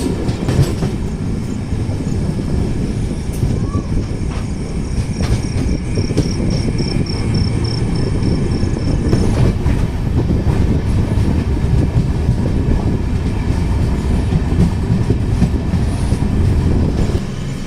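The Cocanada Express, an Indian passenger train with LHB coaches, is heard from inside while it runs at speed, a loud, steady rumble with clickety-clack of wheels on rail joints and a faint high squeal, with no voices.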